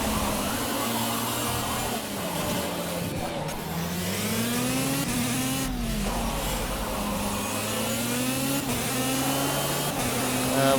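A racing kart in the Project CARS video game laps the Dubai track, its small engine droning steadily and loud throughout, with pitch rising and falling through gear and throttle changes.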